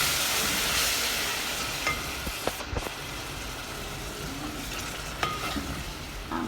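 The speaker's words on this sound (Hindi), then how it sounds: "ये टमाटर 2 अदद ब्लेंड करके छान लिए थे मैंने, ये डाल के अच्छे से हम भुनाई करेंगे" Blended, strained tomatoes and achar gosht masala fry in hot oil for a shimla mirch qeema, giving a steady sizzling hiss with occasional stirring clinks and scrapes close by.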